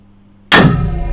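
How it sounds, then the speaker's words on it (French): A single sharp, loud gunshot from a Lebel Mle 1886 M93 R35 rifle in 8x50R with bayonet fixed cracks out after a brief quiet moment, followed by a ringing decay. "je vais refaire un tir au 86, juste comme ça, pour vous montrer le tir avec la baïo"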